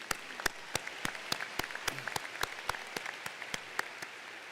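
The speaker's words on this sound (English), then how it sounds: "Let's give them a round of applause." Scattered applause at a college commencement ceremony: a thin, fairly faint stream of distinct individual claps, steady and unbroken for several seconds.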